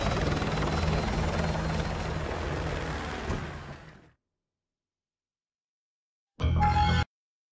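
Helicopter in Call of Duty Modern Warfare 2 Remastered, a loud steady rotor and engine roar that fades out over about four seconds, then after a silent gap a brief loud burst of similar noise returns.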